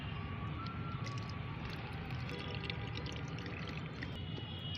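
Homemade liquid plant fertilizer is poured through a strainer, giving a steady, continuous trickling splash at close range with no talk.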